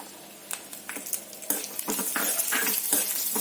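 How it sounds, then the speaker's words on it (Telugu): Garlic cloves dropped into hot oil with dried red chillies for a garlic chilli powder recipe, giving a steady close sizzle broken by clinks and scrapes of a spoon stirring in the pan. "ముందుగా ఉంచి పెట్టుకున్న వెల్లుల్లిపాయల్ని వేస్తున్నాను."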